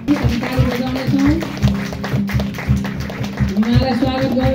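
Welcoming claps from a church congregation in Nepal keep a regular beat, the crisp rhythmic strikes under music and voices.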